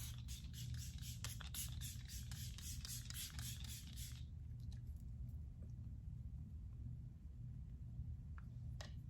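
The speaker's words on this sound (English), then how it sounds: "I'm gonna take this Milk setting spray and just spray this all over my face." Several quick, soft spritzes of setting spray misted onto a face close by, then a pause with only faint low rumbling in the background.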